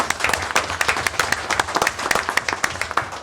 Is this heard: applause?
yes